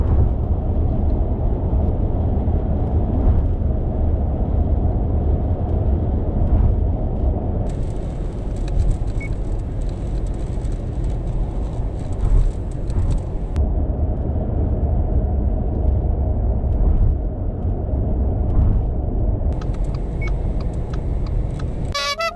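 Continuous road and tyre roar from inside a moving Subaru Impreza Sport on Bridgestone Turanza T001 tyres, a steady low rumble with a brighter hiss rising in places.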